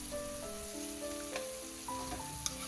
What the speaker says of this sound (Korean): 양념은 프라이팬에 졸여주시고요. 부글부글 끓어오르면 준비했던 깻잎도 넣어주세요